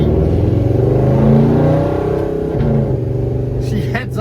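A 1966 Chevelle converted from its original six-cylinder to an LS V8 engine rumbles and revs steadily from inside the car, a loud continuous drone that swells and eases, with faint talk underneath.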